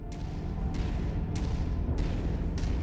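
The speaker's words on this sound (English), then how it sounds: "Those are big fucking cannons." Big cannons firing in the MechWarrior 5 video game: five heavy booming shots at a steady rhythm, each a sharp crack with a rumbling tail, over a loud continuous low mechanical drone.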